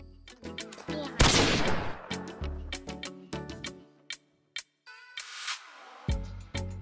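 The Woodpecker gun in Free Fire fires close and loud in single sharp shots and short bursts with uneven gaps, including one harsher, longer blast and a brief silence.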